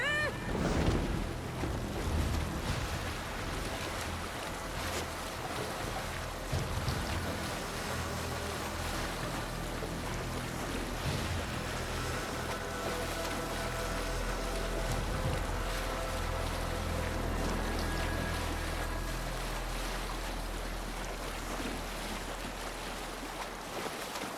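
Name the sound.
sailing ship on water in the video game Assassin's Creed Valhalla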